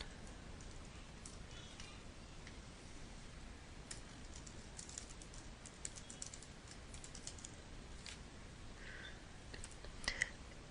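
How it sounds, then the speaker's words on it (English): Someone types on a computer keyboard in a quiet room, with soft, irregular key clicks in scattered bursts over about ten seconds and a few sharper taps near the end, faint and without speech. "Just type in that information."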